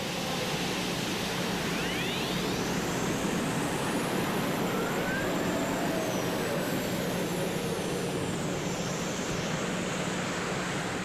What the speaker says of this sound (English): It sounded like one of the engines might have spooled down there, or maybe he got out of the throttle and back in the throttle.